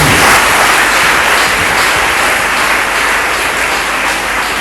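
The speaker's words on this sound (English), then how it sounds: "You can clap for yourselves too" Students applauding at a school assembly during an education director's visit, a loud dense roar of clapping that stays steady across the whole stretch, close and continuous without voices.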